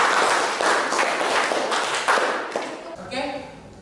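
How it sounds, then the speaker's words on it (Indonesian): A class of students applauds in a classroom, a dense burst of many hands clapping for about three seconds before thinning out, with voices speaking over the tail end. "kasih tepuk tangan dulu semua"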